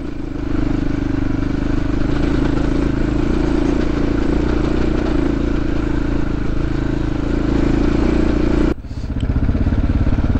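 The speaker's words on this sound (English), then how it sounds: "The old Husky has got all she wants in second gear here." An old Husqvarna motorcycle engine labours steadily uphill in second gear, loud and close throughout, with a brief shift in pitch near the end as the throttle changes.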